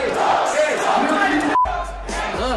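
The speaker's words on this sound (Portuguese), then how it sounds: "Nossa, a galera gritou em peso," A rap battle crowd roars and shouts in unison, a loud dense wall of voices cheering for about a second and a half, then a short gap before the yelling resumes.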